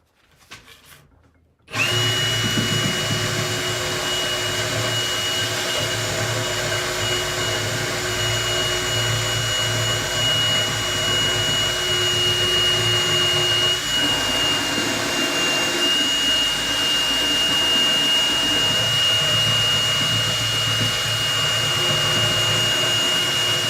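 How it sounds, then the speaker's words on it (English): A power tool with 60-grit sandpaper grinds down the top side of a steel pipe, starting abruptly after a brief quiet moment, then running as a loud, steady, continuous whine with high metallic tones and no talking. "Got a lot to grind down on this top side."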